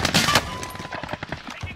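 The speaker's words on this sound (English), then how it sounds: "Taking fire over here." Gunfire in the Call of Duty Warzone video game, with several loud, sharp shots up front followed by a rapid, fainter burst of automatic fire, brief and close.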